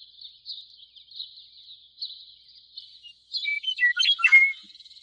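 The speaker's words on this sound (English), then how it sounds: "Yellow Warbler." Yellow Warbler calling alone, a run of thin, high chirps repeating steadily, then a louder, faster burst of varied sweet notes near the end.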